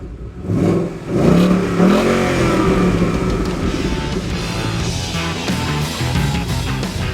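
A 2015 Ford Mustang's naturally aspirated 5-litre V8 revs loudly and continuously up close, rising into a sustained throaty roar that holds steady with slight rises and falls.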